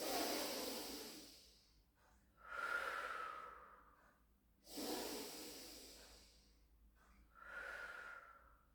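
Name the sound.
breathing in during Pilates exercise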